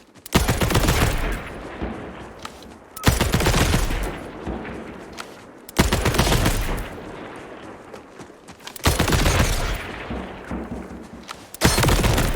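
In Borderlands 4, gunfire hits barrels in a set order, setting off four loud bursts of shooting and blasts a few seconds apart, each a sharp crack that fades into a rumbling tail.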